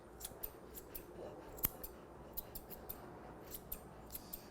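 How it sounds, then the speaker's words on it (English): Scissors trim a poodle's coat with quick, light snips at an irregular rhythm, close but faint, with one sharper click in the middle and no talk. "Now I turn the scissors around and go in"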